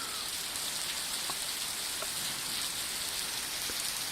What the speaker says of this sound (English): Just went through another rain.